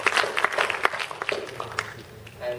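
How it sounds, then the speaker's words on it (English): A short burst of scattered clapping from a small group, fading out after a couple of seconds. "Let's just give him a round of applause."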